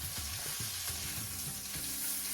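Pieces of rui fish fry in a pan over medium heat, with a steady, close hiss of sizzling oil and occasional low clinks of a utensil turning them.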